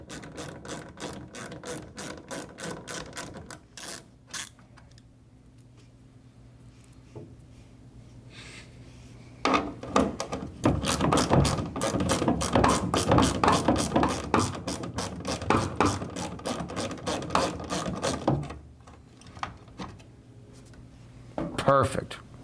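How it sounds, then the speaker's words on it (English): Ratchet clicking in quick rhythmic bursts while loosening the two tail light bolts on a vehicle, close and fairly loud, with brief pauses between runs of clicks and a louder sustained run in the middle. "You're going to do so by removing these two bolts right here."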